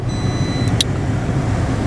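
A Peugeot 108 with a 5-speed manual gearbox is idling after being started, a steady low engine hum close by with a brief higher chirp partway through.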